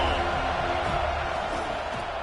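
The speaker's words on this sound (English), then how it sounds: "This crowd ready to make its presence known." A football stadium crowd cheering: a broad, steady roar of many voices that holds at an even level throughout, with a commentator's voice layered on top.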